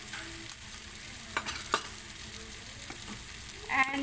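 Dal with garam masala, coriander and cumin powder is stirred in a pan, giving a soft, continuous sizzle with a few light scrapes and knocks, plus a brief voice near the end.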